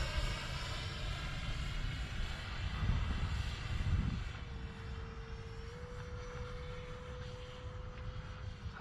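Freewing F-16 70mm EDF radio-controlled jet making a slow pass with its gear down, its ducted fan giving a steady, fairly distant whine that swells briefly in the middle, with a faint tonal note near the end.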